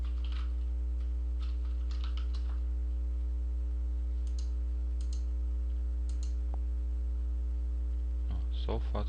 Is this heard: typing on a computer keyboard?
yes